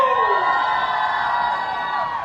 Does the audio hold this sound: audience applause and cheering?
yes